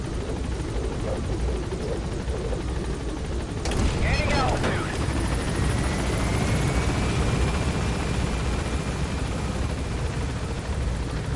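Helicopter gaining altitude in Metal Gear Solid V, a steady rotor and engine drone with a sharp burst partway through, followed by a rising whine, with a voice talking over it.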